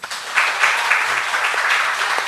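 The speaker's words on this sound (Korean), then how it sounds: "우리 박수 한번." A church congregation at a Wednesday service claps steadily for a couple of seconds, a dense, even patter with no voices over it.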